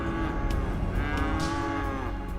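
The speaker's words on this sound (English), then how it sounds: "we have moo-moos. Highland cows." Highland cattle in the Cities: Skylines video game give a long, loud moo that holds steadily for about two seconds, close and clear over a dense background of game ambience.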